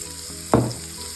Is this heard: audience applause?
no